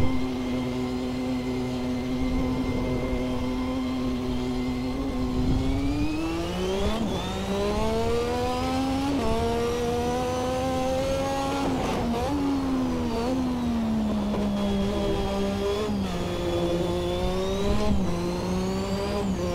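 A Lotus 98T turbocharged Formula 1 car on a qualifying lap, its engine loud and close, rising in pitch through each gear and dropping sharply on downshifts, with repeated revving sweeps and no talk.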